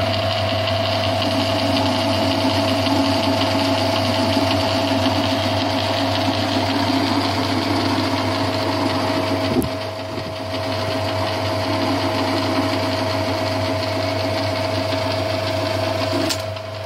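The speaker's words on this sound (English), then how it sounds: "I fitted my lathe with an auto carriage stop which makes repetitive cuts much easier." Metal lathe with an auto carriage stop turning a chuck part, a steady close motor hum with a constant cutting whine, briefly dipping midway before resuming and running evenly to the end.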